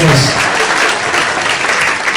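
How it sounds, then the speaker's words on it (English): Loud, dense audience applause for a comedian at a stand-up show, a continuous wash of many hands clapping from start to end. "Give me an applause."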